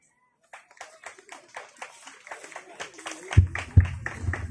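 An audience claps along for a school song team, scattered hand claps building into a steadier rhythm with a few heavy thumps near the end, voices faintly underneath.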